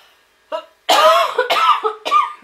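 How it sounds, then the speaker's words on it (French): A short throat-clearing sound, then a string of three loud, rough coughs up close, with near silence around them. "Alors excusez-moi, je vais tousser"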